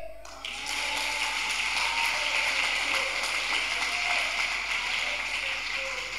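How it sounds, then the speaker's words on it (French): A church congregation at a Sunday worship service breaks into sustained applause and cheering, a dense, even roar of clapping that fills the room for several seconds. "Vous pouvez vous acclamer."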